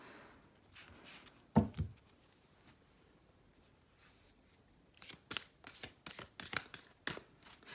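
Cards riffle and snap in quick bursts, one sharp flurry early, then a rapid run of shuffling clicks toward the end in a quiet room.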